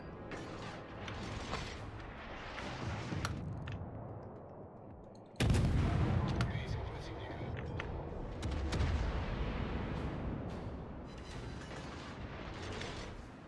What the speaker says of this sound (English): Shells coming in.